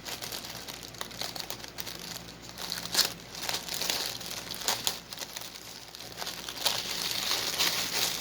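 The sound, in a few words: unwrapping a plastic mail package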